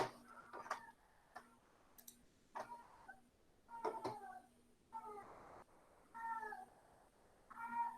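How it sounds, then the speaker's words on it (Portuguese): A pair of cats mating at a window meow and wail in a series of short cries, some drawn out and rising. The sound is quiet and a little distant, with soft ticking clicks between the cries. "Eu tenho um casal de gatos acassalando aqui na minha janela"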